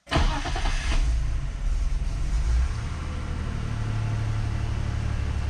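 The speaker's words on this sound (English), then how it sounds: "And then we'll go ahead and start the car." A BMW E46 with a Vortech supercharger cranks and catches, then settles into a rough, lumpy idle with a low rumble that stays steady.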